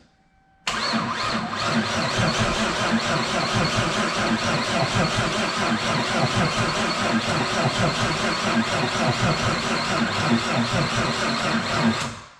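A car engine in a garage cranks on the starter to build oil pressure, a loud, steady, rhythmic churning that starts abruptly and runs unbroken for about eleven seconds without firing, then stops.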